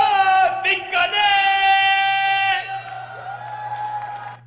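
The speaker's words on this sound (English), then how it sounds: "It was like two people cheering there." Soundboard cheering effect of a couple of voices whooping and cheering, loud and sustained for a few seconds before tapering off over a steady low hum.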